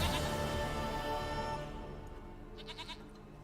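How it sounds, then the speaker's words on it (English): A goat in The Witcher 3: Wild Hunt bleats a few short, faint cries, heard beneath louder game sound that fades away partway through. "Goat of mine. Dearest, sweetest goat."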